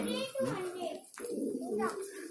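Pigeons coo at a loft housing several hundred birds, their low burbling calls close and continuous, with a voice running over them.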